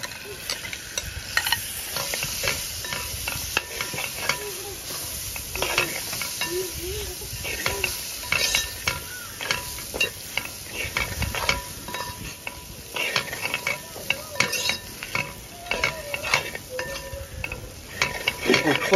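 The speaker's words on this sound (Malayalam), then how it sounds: "നമുക്കതിലേക്ക് നമ്മൾ നേരത്തെ എടുത്തു വെച്ച പോർക്ക് ഇട്ടു കൊടുക്കാം" Pork pieces tipped into a hot pan for Kerala-style pork fry, sizzling steadily while a spatula stirs and scrapes against the pan, with occasional clinks, continuous and close for the whole stretch.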